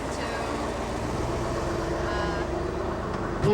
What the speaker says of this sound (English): That's a noisy car